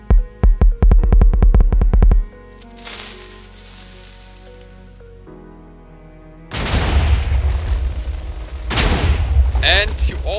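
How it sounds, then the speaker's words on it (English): Booming TNT blasts from a Minecraft cannon: a rapid burst of loud explosions at the start, then a rushing boom and later a second loud wave of blasts with crackling debris, close and heavy. "you always hear the TNT exploding 2 times"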